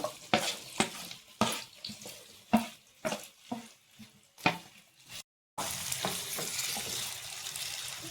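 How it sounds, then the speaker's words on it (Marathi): Potatoes fry in hot oil in a kadhai for sabudana khichdi. Sharp spatula scrapes and knocks repeat at a steady rhythm over a soft crackle, then after a brief gap a louder, continuous sizzle takes over, close by. "तेल गरम झाल्यानंतर बटाटा छान असा परतून घ्यायचा आहे, गोल्डन कलर येईपर्यंत."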